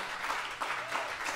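A live audience applauds a bass player being introduced by a jazz quintet at an open-air evening concert, a steady wash of clapping sustained throughout with a brief swell midway.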